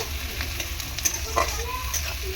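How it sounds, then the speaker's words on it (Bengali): Onions sizzle and fry in hot oil in a pan for a dahi chicken dish, a steady close crackle broken by a few louder stirring scrapes, with no voices. "পেঁয়াজটা ভালো করে ভেজে নেব।"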